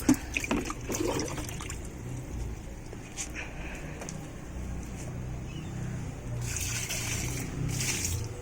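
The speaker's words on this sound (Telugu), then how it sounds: "బయటికి కారిపోకుండా పోయండి కుండీల్లో కూడా అంతే" Blended fruit peel liquid fertilizer trickles softly as it is poured into plant pots, a faint, steady wet flow heard up close while someone talks.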